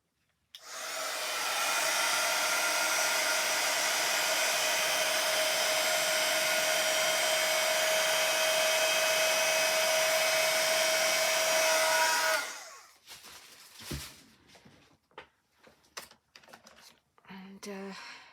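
A handheld hair dryer blows steadily and loudly for about twelve seconds to dry ink on a stamped card, then switches off, leaving a few soft handling taps and rustles.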